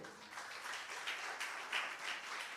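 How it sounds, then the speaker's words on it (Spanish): Applause rises from a church congregation after praise to the Lord, a dense, even patter of clapping hands that carries on steadily throughout, with no talk heard. "Denle un aplauso al Señor"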